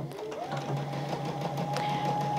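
A sewing machine runs a straight stitch, a steady close mechanical whir with a rising motor hum as it picks up speed, heard alone without talk.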